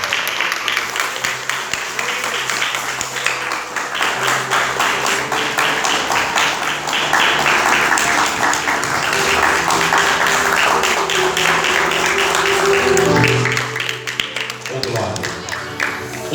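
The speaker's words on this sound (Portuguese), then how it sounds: "por 30 segundos aplauda ao Rei da Glória" A church congregation applauds the King of Glory for about thirty seconds, steady dense clapping filling the room with a low musical drone beneath and voices mixed in, swelling near the end before easing off.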